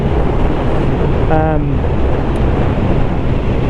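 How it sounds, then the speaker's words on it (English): Strong wind buffets the microphone of a rider on a motorcycle in a steady, loud roar, with a brief faint voice-like tone partway through. "It's windy."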